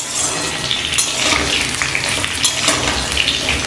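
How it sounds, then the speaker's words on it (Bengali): Ridge gourd pieces and potatoes frying in a pan with no salt yet, a loud, dense, continuous sizzle with rough stirring scrapes, close up and without talk. "একই সাথে আলুর সাথে ঝিঙেগুলো আমি এবার নাড়াচাড়া করে নিচ্ছি।"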